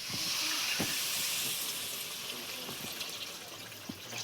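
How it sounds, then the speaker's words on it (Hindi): Water poured into a pan of besan curry frying in oil, giving a steady hiss and sizzle with soft splashing throughout, fairly close, with no talking. "इसमें मैं डाल दे रही हूँ पानी।"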